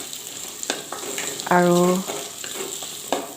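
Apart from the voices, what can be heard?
potatoes frying with onions on high flame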